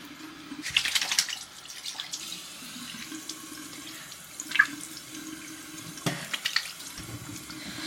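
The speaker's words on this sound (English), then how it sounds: "you're supposed to use warm water to wash your face" A tap runs steadily into a sink, water splashing as someone washes their face with warm water, a continuous wash of sound with a few brief louder splashes.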